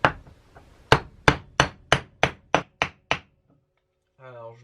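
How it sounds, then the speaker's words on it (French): A hammer taps a washer into place in guitar-making work, eight sharp evenly spaced knocks after softer light taps, followed by a short stretch of speech. "Un petit coup de marteau."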